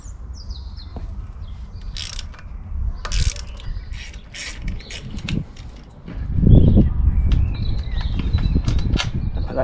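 A ratchet with a 13mm socket removes the engine guard bolts on an Aprilia Tuareg 660 motorcycle, with close, rapid clicking in bursts, faint birds chirping behind and no talk.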